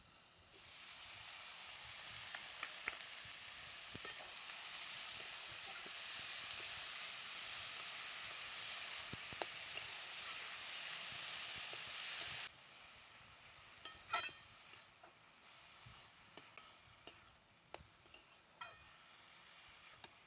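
Chopped banana flower dropped into hot spiced oil in a pan, a loud steady sizzle and hiss for several seconds that then quiets, followed by scattered scraping and stirring knocks.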